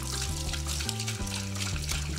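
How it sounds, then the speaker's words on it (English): Cold tap water runs steadily over raw fish being rinsed clean of blood for braising, a continuous close splashing stream with a low harmonic hum beneath it. "And now cold water, and you just brush it away."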